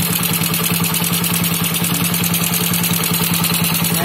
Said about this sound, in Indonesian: Nah, ini sudah putaran langsam sekali atau stabil.